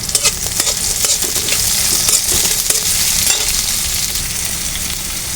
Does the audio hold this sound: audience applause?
no